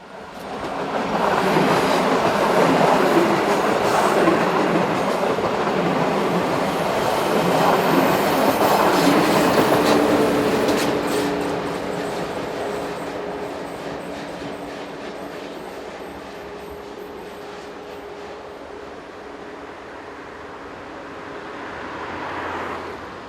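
Electric locomotive 1116 120 propels a passenger service south toward Deutschkreuz, passing loud and close with a rushing rail roar that slowly fades as the train draws away.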